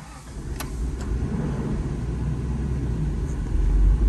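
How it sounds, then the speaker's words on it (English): An Isuzu Rodeo with a manual gearbox pulls away in third gear while in four-wheel-drive low, its engine a steady, close, low rumble that swells slightly toward the end, with no talking. "I bet we could take off in third."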